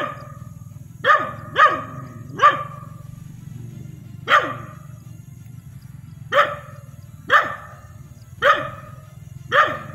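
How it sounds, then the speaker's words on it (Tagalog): A dog barks repeatedly at a moderate distance, single and double barks spaced irregularly over a steady low hum. "tahol na tahol yung aso"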